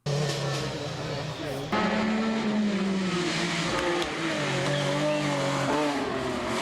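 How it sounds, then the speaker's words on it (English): Group B rally car engines roar past on a rally stage, loud and gritty, with rising and falling revs and gear changes that climb and drop in pitch, while a person talks over the engine noise. "the engines sound way more beefy"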